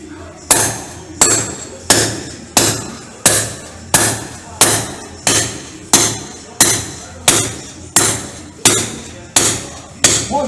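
Old, decades-old concrete is broken up by hand hammering, with steady heavy blows about every 0.7 seconds, loud and close, each ringing briefly before the next.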